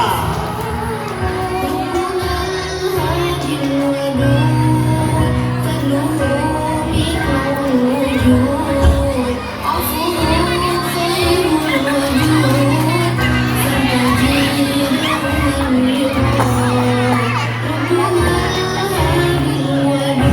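A lively crowd at a primary school children's fashion show cheers, whoops and shouts continuously, loud and dense, with music-like tones underneath and no clear speech.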